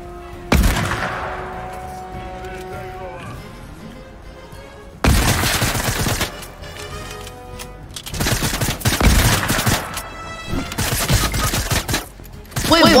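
Sniper and gun fire in a Fortnite match, with sharp loud cracks, one near the start and several heavy bursts later, each followed by ringing echoes and lingering effects.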